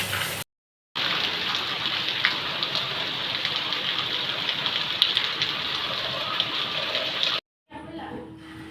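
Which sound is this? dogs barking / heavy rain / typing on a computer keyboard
heavy rain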